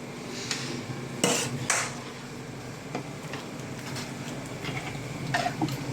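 Chicken pieces go into a simmering butter chicken gravy in a pot, with clattering cookware, a couple of sharp metal clanks, scraping and stirring over a soft bubbling sizzle.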